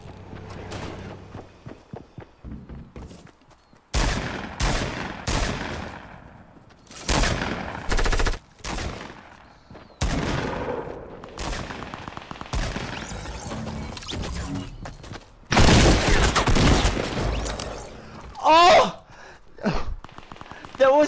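Bursts of SMG fire in a first-person shooter game, several rapid automatic volleys separated by quieter gaps, loud and close, with voices talking between and around the shots.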